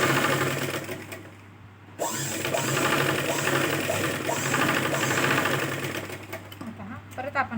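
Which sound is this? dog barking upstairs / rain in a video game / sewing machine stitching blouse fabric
sewing machine stitching blouse fabric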